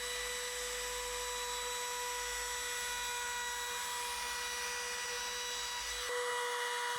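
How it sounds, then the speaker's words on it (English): Wood router fitted with a small chamfer bit running along the edge of a pine board: a steady, high-pitched motor whine with constant tonal hum, close and loud throughout, cutting out abruptly near the end. "So I'm just routing over with a little bit of a chamfer bit here"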